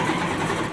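World War II plane engines droning in a steady, dense, loud hum with no breaks, heard up close and without voices.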